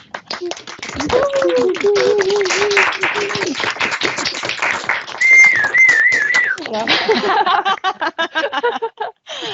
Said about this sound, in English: I would like to invite everybody to unmute yourself again and do a round of applause